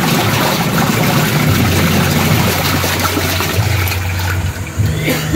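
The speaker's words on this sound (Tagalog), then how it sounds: "Nag-washing ako ng basahan. Yung nabaha kagabing basahan." A washing machine with a newly replaced motor churns flood-soaked rags, water sloshing and swirling loudly and continuously close by, with a low motor hum underneath and no talking.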